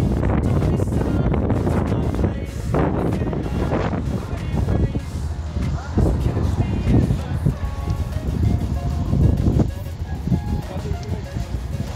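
Strong wind by the shore at Sarayburnu, Istanbul, where people fish: gusty buffeting roar hitting the microphone, loud and continuous, with someone talking over it.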